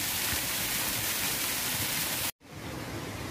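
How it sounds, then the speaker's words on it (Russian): Water pouring steadily from the Neptune fountain into large rectangular garden pools at Villa d'Este in Tivoli, a loud unbroken rushing wash that cuts out briefly near the end, then resumes slightly softer. "Три большие прямоугольные бассейны, расположенные в центре сада, вода стекает с фонтана Нептуна."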